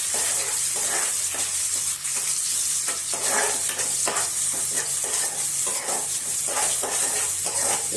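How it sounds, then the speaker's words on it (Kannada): Onion and green chili fry in a pan with a steady, close sizzle, broken by repeated scraping stirs throughout, and no one speaks. "ಉಳ್ಳಾಗಡ್ಡಿ ಮೆಣಸಿನ್ಕಾಯಿ ಸ್ವಲ್ಪ ಫ್ರೈ ಆಗ್ಯಾವ"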